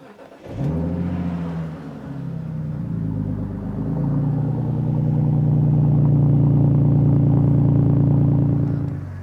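A BMW Z4 engine cranks and fires, then settles into a loud, steady idle with a deep low rumble and light clatter, close by with no talk over it.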